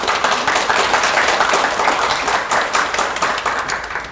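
An audience applauds steadily to welcome the moderator of a round-table conference on environmental change, with dense clapping filling the room at full loudness throughout and no talking.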